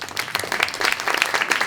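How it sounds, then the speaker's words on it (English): An audience at a health research institute event gives a round of applause: close, busy, crackling clapping with sharp individual hand claps, sustained throughout. "So can we give them a round of applause?"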